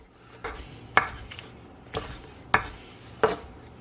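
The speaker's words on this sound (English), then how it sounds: "I want to cut into big pieces like that." A knife chops wide Chinese fun noodles into big pieces on a board: five or six distinct, close, crisp thuds at an uneven pace with no talking.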